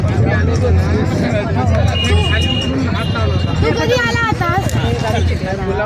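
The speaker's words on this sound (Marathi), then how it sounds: "गर्दी बघ गर्दी केवढी बघ" Dense babble of a large crowd of devotees at a Mahadev temple in Jalgaon, many overlapping voices close by and continuous, with one nearby speaker talking over the hubbub.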